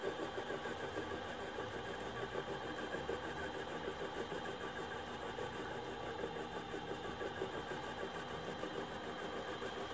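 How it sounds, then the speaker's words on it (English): A metal lathe turns steel at high speed, making a steady dense mechanical whir with a faint pulsing texture that holds level and fairly loud for the whole stretch, with no talking. "Going at a fairly high rate of speed, about as fast as I can go turning the steel."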